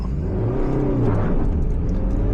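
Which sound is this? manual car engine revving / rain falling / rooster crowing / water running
manual car engine revving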